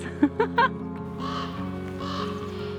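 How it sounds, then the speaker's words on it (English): Crows gather at a homestead and give three short caws close together, then a softer hum and bird chatter carry on over a steady background drone. "And the crows come to join us."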